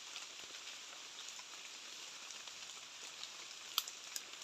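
Steady rain falls in a forest during a cold-season storm, a faint, even hiss with a couple of brief drip-like clicks near the end.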